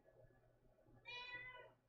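A cat meows once, a clear tonal cry rising out of a quiet room with low background hum, fairly close and alone.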